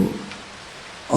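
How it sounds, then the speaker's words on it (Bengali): Heavy rain pours down as a brief sound effect for a spoken suspense story: a steady, dense hiss of falling water, with no voices. "তখন অঝরে বৃষ্টি পড়ছে।"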